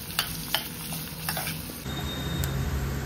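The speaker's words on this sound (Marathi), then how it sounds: "कांद्यातच आपण हे काजू पण थोडे परतून घेऊया, म्हणजे थोडा क्रिस्पीपणा येईल काजूला आपल्या तेलावर परतल्यामुळे।" Cashews sautéing in oil with onions for a prawn pulao make a steady close sizzle, with a few soft stirring scrapes and clicks over about three seconds.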